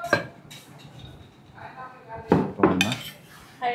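Rice is served onto plates at an eatery by the Mawa ferry ghat, with ceramic dishes and cutlery clinking and clattering in a few close bursts while people speak nearby.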